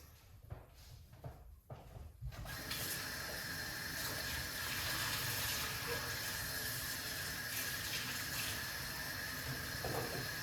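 Fruit rinsed under a running kitchen tap: after a few quiet knocks and handling sounds, water gushes steadily and fills the rest of the stretch with a loud, close, continuous splashing hiss.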